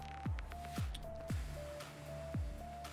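Wet squishing eating sounds from a bladderfish in Subnautica repeat at a steady pace, each a short descending gulp over underwater ambience and a faint recurring tone.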